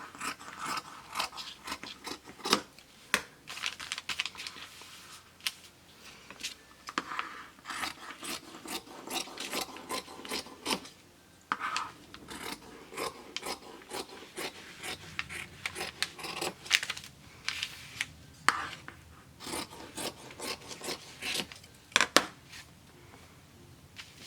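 Scissors cutting cotton jersey fabric for a sweatshirt cuff, a quiet, close run of irregular snipping and rasping cuts with brief pauses between strokes.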